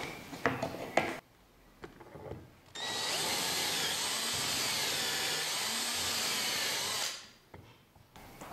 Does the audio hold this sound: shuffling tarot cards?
no